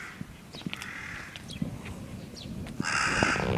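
Crows cawing outdoors in an old Japanese village, a deeper-voiced male giving several harsh calls against steady background noise, then a louder, sustained burst of calling near the end.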